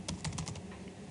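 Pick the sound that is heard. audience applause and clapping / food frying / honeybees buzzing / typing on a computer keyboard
typing on a computer keyboard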